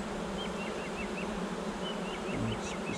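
Honey bees buzzing at close range during a spring hive inspection at an apiary, a dense continuous hum with no pauses throughout the short stretch.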